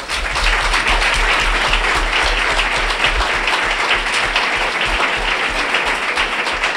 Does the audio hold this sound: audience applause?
yes